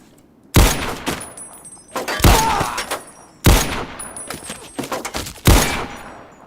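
Bursts of gunfire in a modded Fallout 3, four or five loud close volleys separated by short pauses, each decaying with echo, fairly clear of talk.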